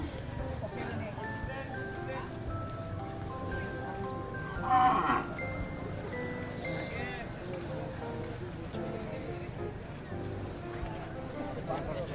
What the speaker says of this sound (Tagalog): May malaking baka dito at saka kalabaw.